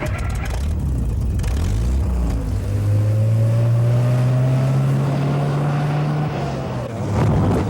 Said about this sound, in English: It's powered by a straight-six Rolls-Royce engine